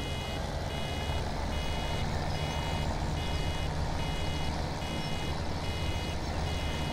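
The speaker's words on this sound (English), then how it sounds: "this does start beeping way too early." Steady, repeated warning beeps from a farm machine in Farming Simulator 17 pulse at an even rhythm over a constant engine drone, moderately loud with no voices.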